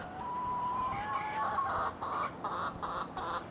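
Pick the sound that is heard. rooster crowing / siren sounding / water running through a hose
rooster crowing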